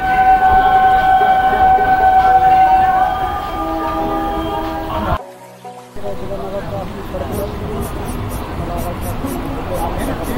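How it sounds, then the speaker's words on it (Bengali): A train heard from onboard rumbles along with a loud, steady clatter and a horn-like tone early on. The sound drops out briefly midway, then resumes as a continuous rolling noise. "ট্রেন চলছে এখন।"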